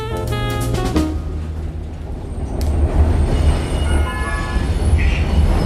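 A Prague tram, number 14, rumbles loudly along the rails, its wheels squealing with high tonal whines over a heavy, continuous low rolling noise.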